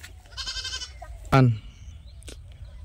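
A single loud goat bleat, close by, with a person talking quietly beforehand and a brief clatter afterward.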